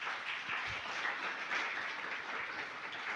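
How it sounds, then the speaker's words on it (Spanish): A church congregation claps during a Spanish-language sermon, an even, continuous patter of applause at moderate level lasting the whole moment. "Denle un aplauso al Señor"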